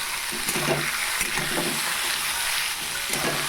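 Cabbage and other vegetables sizzle in a pan for veg chow mein while being stirred, a constant bright frying hiss with soft scraping strokes from the stirring, close up and with no talking.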